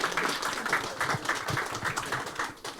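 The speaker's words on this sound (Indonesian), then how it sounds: "Tepuk tangan dong biar lebih" An audience claps at an event, a dense, steady patter of many hands at moderate distance that carries on throughout, with murmured voices faintly underneath.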